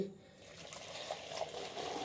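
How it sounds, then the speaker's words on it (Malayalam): Boiling water pours in a steady stream into a container, a soft continuous splashing that starts after a brief quiet moment. "ഇനി നമ്മൾ തിളച്ച വെള്ളം ഒഴിച്ചെടുത്ത്"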